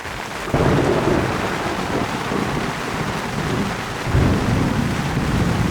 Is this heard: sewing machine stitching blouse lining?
no